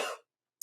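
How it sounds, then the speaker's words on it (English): A single short, sharp cough in a podcast conversation, close and loud, followed by a brief gap and a faint hiss-like breath. "that cough came out of nowhere"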